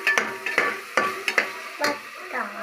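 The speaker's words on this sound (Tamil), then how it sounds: "தக்காளி நல்லா வதங்கிருச்சு." Tomatoes sautéed in a pan for chicken biryani, several quick rhythmic stirring scrapes over a soft sizzle, close and clear.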